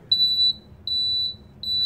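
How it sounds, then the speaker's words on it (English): A smoke detector re-alarming during a test of a Fire-Lite MS-5UD Miniscan fire alarm panel: three steady high-pitched electronic beeps, each about half a second long, repeating clearly over a low background hum. "we'll keep this one disabled in case the smoke detector re-alarms"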